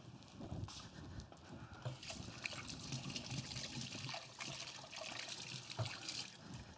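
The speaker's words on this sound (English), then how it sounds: "Let me rinse off my hands real quick." Water trickles from a kitchen tap as hands are rinsed, a faint, steady running stream with soft splashes and no talking.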